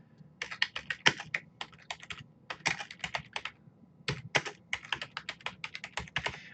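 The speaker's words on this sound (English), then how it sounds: "and then you type your title." Rapid, irregular keystrokes on a computer keyboard as a document title is typed, crisp clicks coming in quick bursts with a short pause in the middle, close and alone without any talk.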